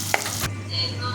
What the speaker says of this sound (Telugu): ఇప్పుడు బోటి కూర వండుకుంటున్నాం మేము.